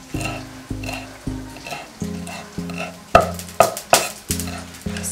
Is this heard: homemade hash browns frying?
yes